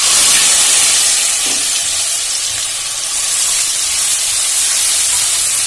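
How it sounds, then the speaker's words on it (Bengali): Ground onion paste fries in hot oil after dried red chillies and whole cumin, making a loud, even, hissing sizzle that carries on without a break and with no talking. "পেঁয়াজটা দিয়ে ভালো করে ভাজা করে নেব"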